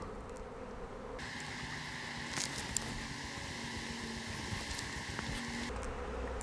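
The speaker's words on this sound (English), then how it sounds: "the majority of those bees now are flying around the hive and not up there where they came from" A honey bee swarm buzzes steadily around the hive, a dense continuous drone of many wings filling the air at close to moderate range, with no talking.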